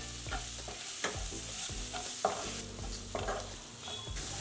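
Chopped medium tomatoes stirred into frying masala in a pan for beetroot pulao, with a steady sizzle broken by repeated scraping stirs at a close, moderate level.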